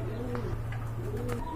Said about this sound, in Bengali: এখানে কিন্তু আরেক জোড়া কবুতর রয়েছে দেখতে পাচ্ছেন